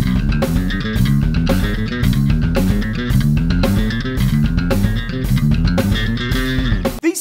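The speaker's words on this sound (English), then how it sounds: "then we can try the scale ascents," Electric bass guitar plays a line in Mixolydian scale ascents, with steady rhythmic phrases climbing repeatedly under a full band mix and ending in a brief pause.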